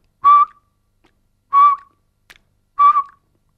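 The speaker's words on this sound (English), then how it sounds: "What I want you to do is whistle and then smile and alternate this." A person whistles three short, clear notes, evenly spaced about 1.3 seconds apart, as a mouth-muscle warm-up for saxophone embouchure, with silence between them.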